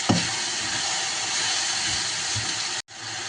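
Chopped onion dropped into hot oil gives a loud, steady broadband sizzle that holds for about three seconds, stops abruptly, then resumes.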